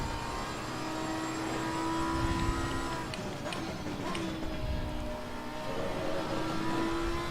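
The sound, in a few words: race car engine accelerating in video game Assetto Corsa Competizione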